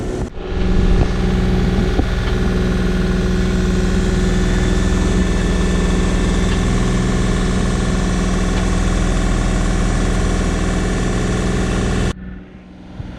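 Sailboat motoring under engine power at sea, a loud steady low engine drone with constant vibration and rumble that runs for about twelve seconds before cutting away to quiet.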